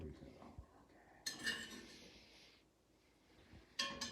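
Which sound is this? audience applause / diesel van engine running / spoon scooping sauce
spoon scooping sauce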